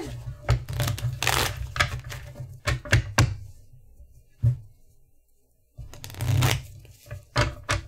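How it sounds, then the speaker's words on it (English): A deck of playing cards being shuffled and bridged in a tabletop card game, a series of sharp riffling bursts and soft taps in uneven clusters, close and fairly quiet, with a brief lull before the riffles resume. "These are great cards. Super easy to shuffle."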